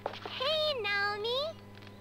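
A cat meows twice in the video game Trauma Team, loud and close, over a steady electronic hum. A voice is heard between the calls.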